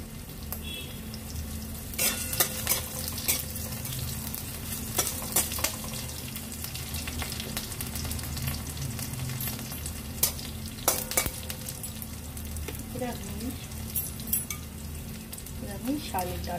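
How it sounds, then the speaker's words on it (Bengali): Whole spices tempering in hot oil for a stir-fry of water lily greens, a steady close sizzle with scattered clicks of a spatula stirring against the pan, and no voices. "ফোড়নটা ভালো করে ভাজা হয়ে যাওয়ার পর দিয়ে দেব শাপলা শাক।"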